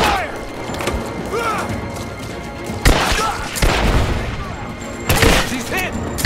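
Gunfire in the video game Rise of the Tomb Raider, rapid bursts and sharp cracks mixed with heavy impacts and mechanical clatter, with voices shouting during the fight.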